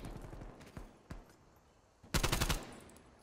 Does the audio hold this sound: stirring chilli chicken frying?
no